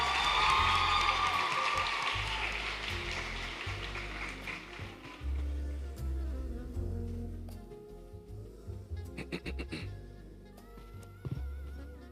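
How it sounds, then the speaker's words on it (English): Applause and cheering from an audience at a secondary school speech day prize-giving, loud at first and gradually thinning, with scattered whoops and a brief swell near the end. "Let us keep our applause going"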